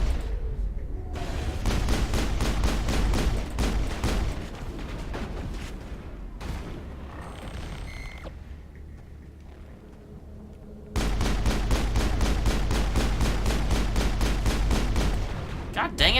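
Gunfire and explosions in the video game Mass Effect, with dense bursts of rapid shots and booms at close range that pause briefly midway and then resume just as heavily.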